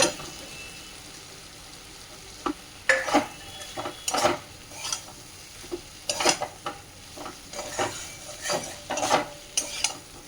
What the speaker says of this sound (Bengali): এই যে মশলাটা ভালো করে কষে নিয়েছি এখন দিয়ে দেবো এই সবজিগুলো